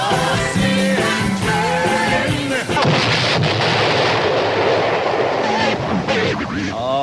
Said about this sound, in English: The magic cannon. It's off.